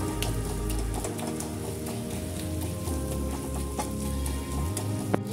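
Boiled pumpkin being mashed by hand in a pan for Bengali kumro bhorta, a steady close squelching and scraping that runs on without pause and with no talk.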